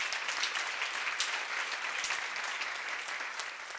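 Congregation at a church seminar on First Corinthians breaks into steady applause, a soft, even wash of many hands clapping at a distance, with no talking over it.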